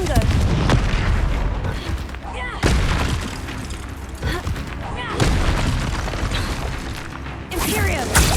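Repeated booming blasts from the Confringo fire spell in the video game Hogwarts Legacy, loud and dense with rumbling bursts recurring every couple of seconds over busy combat noise.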